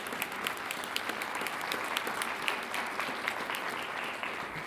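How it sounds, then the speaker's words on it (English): An audience at a city council meeting applauds in a sustained, dense burst of clapping from many hands, steady and fairly close throughout. "Could we give them one more round of applause?"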